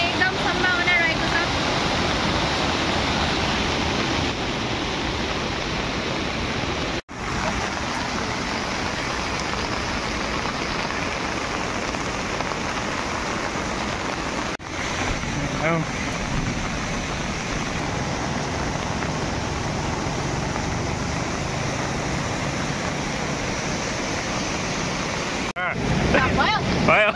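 A rising river running close to flood level, its loud continuous roar steady and near throughout, with a few brief dropouts and some wind buffeting the microphone.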